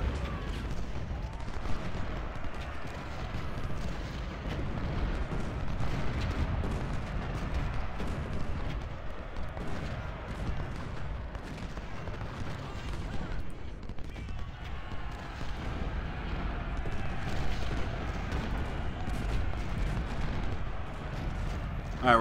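Cannon fire rumbles through a battle in the Civil War strategy game Ultimate General, a dense and fairly faint wash of distant booms and volleys that continues throughout.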